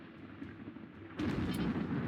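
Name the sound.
mortar firing in the video game RimWorld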